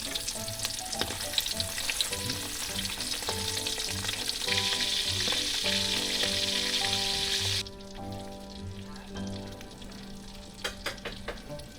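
Tuyo, Filipino dried salted fish, sizzles and crackles loudly in hot oil in a pan, a dense steady spatter that drops quieter near the end with a few sharp pops and clinks.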